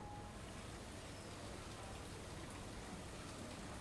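Heavy rain falls in Ahmedabad on a waterlogged Ambli Bopal road, a constant, even hiss of downpour without pauses, heard alone at a soft level.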